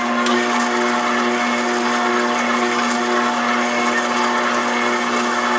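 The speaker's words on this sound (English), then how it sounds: "now I will knead it on just a medium-low speed for another 10 to 15 minutes" A stand mixer kneads brioche dough made with leftover sourdough culture at medium-low speed, giving a steady, even motor whine with a droning hum that holds unchanged throughout, with no one talking.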